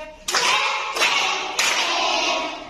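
Three sharp hand claps, evenly spaced and loud, part of a children's English action rhyme about hands; each clap rings briefly with no voices between them.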